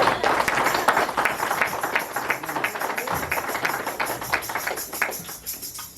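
A church congregation claps together during a Spanish-language sermon, a dense, steady patter of many hands filling the room for several seconds, with faint voices mixed underneath.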